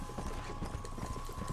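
A horse in the zombie video game Undead Nightmare clip-clops along with steady, rhythmic hoofbeats at moderate volume, heard alone without talk.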